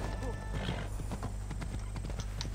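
Horse hooves galloping in Assassin's Creed Odyssey, a fast, steady clip-clop rhythm running throughout over a constant low game soundtrack, with a brief whinny near the start.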